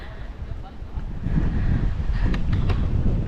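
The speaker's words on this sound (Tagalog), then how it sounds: "Kakusog sa hangin." A strong wind blows near a hanging bridge at Tinagong Dagat in Sipalay City, Philippines, on a rainy day. It makes a low, steady rumble that buffets the microphone, growing louder partway through, with faint voices mixed in.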